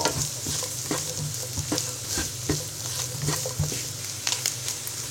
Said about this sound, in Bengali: এবার পেঁয়াজ এবং কাঁচামরিচটা কিছুক্ষণ ভেজে নিব।